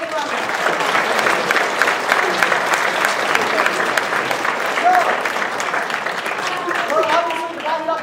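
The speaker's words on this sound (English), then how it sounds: "So give them a big hand of applause. Big round of applause." A large audience at a university chemistry demonstration night breaks into sustained, even applause that continues at full strength throughout, with a few voices and cheers mixed in.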